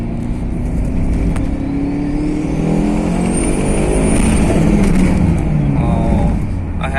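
A turbocharged Honda Fit Sport with a K24A2 engine accelerates hard, its engine note rising steadily and loud from inside the cabin, the roar building in pitch with a faint turbo whine above it.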